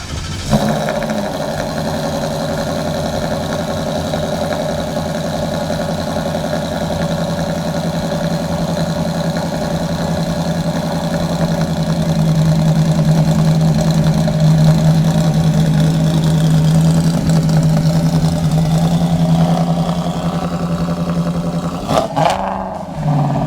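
A 1976 Ford F100 truck's engine idling with a steady, loud low rumble, rising slightly in pitch midway as it is revved, then a couple of sharp knocks near the end as it sets off.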